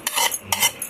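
A spoon stirs a carrot and mango pickle mixture in a metal dish, three or four quick scraping, clinking strokes within a second, close and crisp.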